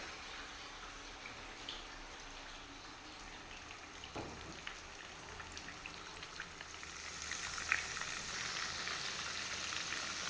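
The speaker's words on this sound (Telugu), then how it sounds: "ఇప్పుడు ఈ ఫుల్ లెగ్ పీస్ని ఆయిల్లో పెట్టుకొని ఒక్కొక్కటిగా ఫ్రై చేసుకోవాలి" Full chicken leg pieces drop one at a time into hot oil for chicken mandi, a soft, steady sizzle that swells louder and denser toward the end, with no voices.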